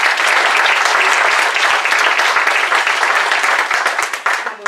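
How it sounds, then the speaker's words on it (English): Loud, dense audience applause after a Churchill Club leadership talk in Silicon Valley, sustained steady clapping from a full room that tapers slightly at the end. "Let's give them another round of applause."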